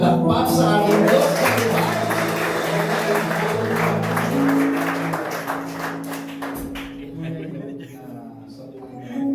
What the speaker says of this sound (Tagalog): Pwede pong isang palakpak sa ating Diyos